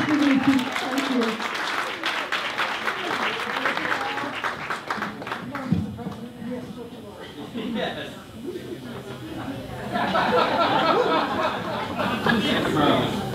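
A cabaret audience gives a round of applause, clapping loudly at first, then fading under talk and light chatter before a second burst of clapping near the end.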